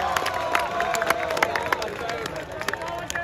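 An audience applauding a speaker onto the stage at a gathering, a crowd of scattered claps and murmuring voices spread across the room, with a voice speaking over it.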